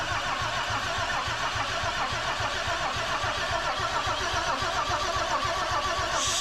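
A Mercedes 300SDL diesel engine cranks over after sitting unused for five years, a steady loud rhythmic churning of the starter and engine that runs throughout without catching, with no voices.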